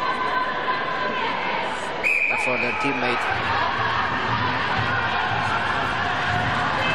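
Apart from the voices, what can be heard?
teammates cheering in the crowd at a sambo match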